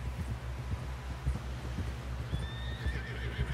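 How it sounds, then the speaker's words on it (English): A horse in the Western game Red Dead Redemption 2 whinnies clearly over a steady run of clip-clopping hooves and a low rumbling game backdrop, the neigh rising near the end. "Someone help John down off this horse."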